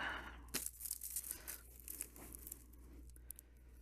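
Tape being peeled and crinkled off a Nissan Leaf battery module, a close, quiet ripping that starts with a sharp tear and trails into softer crackling over a low steady hum.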